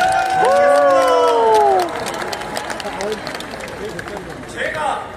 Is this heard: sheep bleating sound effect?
no